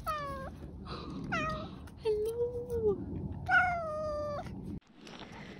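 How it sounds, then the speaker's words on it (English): A friendly cat outdoors in rural Cheshire meows four or five times, clear and close, over a steady outdoor hiss, while a person briefly greets it. "it was talking to me, it was just meowing and like jumping up to nudge my hand"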